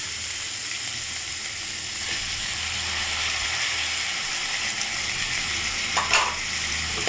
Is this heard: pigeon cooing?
no